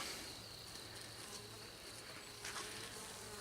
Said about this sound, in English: There's a few bees here that are ones that attend to the queen, and there's a few inside there.